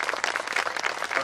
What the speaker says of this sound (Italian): tanto farei un grande applauso a Angelica